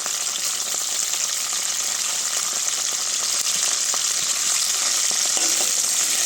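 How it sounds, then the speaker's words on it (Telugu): Tempering spices such as cumin, dried red chillies and garlic sizzle steadily in hot peanut oil for a carrot fry, a dense, continuous close crackle with faint stirring scrapes and no talking. "పోపులు వేస్తున్నానండి"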